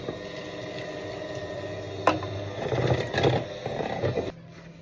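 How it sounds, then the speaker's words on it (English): Hot water is poured into chocolate cake batter in a mixing bowl, a soft liquid pour and sloshing stir with brief scrapes of a utensil, close and fairly quiet, stopping abruptly near the end. "I'm going to add the rest of the hot water."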